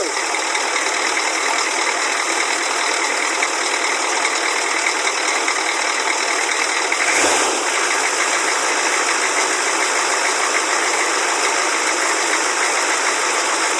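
A 1986 Chevrolet M1008 US Army truck runs with a loud, steady mechanical clatter and hiss from its engine, holding evenly throughout with a brief surge midway.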